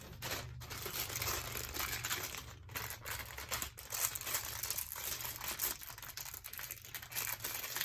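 A plastic piping bag for cake decorating is handled up close, giving quiet, irregular crinkling and crackling with a few sharper snaps.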